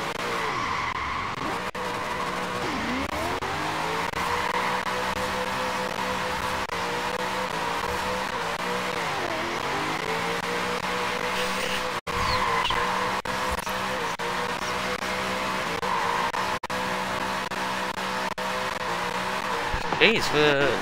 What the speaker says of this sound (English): It means I can just do endless limiter when I'm doing skids.